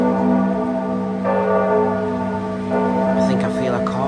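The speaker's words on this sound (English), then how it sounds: "Oh, it's the bells of Santa Maria." The church bells of Santa Maria ring in a steady, sustained peal, with resonant overlapping tones that hum on through the stretch and a few brighter strikes toward the end.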